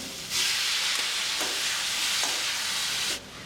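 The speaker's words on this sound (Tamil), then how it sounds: "இந்த தயிரில் இருக்க ஈரப்பதம் போகிற வரைக்கும் ஒரு ரெண்டு நிமிஷம் கிண்டி விட்டிங்கன்னா போதும்" Potatoes frying with curd in a hot pan while being stirred give off a loud, steady sizzle and hiss, broken by a few soft scraping strokes, with no voices.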